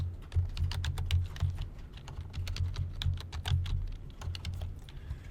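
Rapid typing on a computer keyboard while entering code, with irregular bursts of crisp clicks over a steady low hum throughout.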